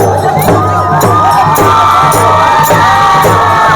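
Festive crowd cheering and shouting during a Dhulivandan (Holi colour festival) procession in Shrivardhan, where village deities are carried to meet; a dense, continuous roar of voices with whoops and drum-like beats, loud and close throughout.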